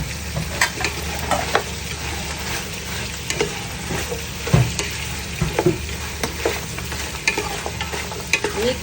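Carrots and chayote stir-fried in a hot pan, a steady close sizzle of frying with repeated scraping and stirring strokes throughout, no talking.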